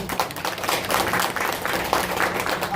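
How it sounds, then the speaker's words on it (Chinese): Warm applause for the school principal at the closing ceremony of a Taiwanese-language study class: a steady, dense wash of many hands clapping, fairly loud and sustained throughout. "我们再次给你一个热烈的掌声"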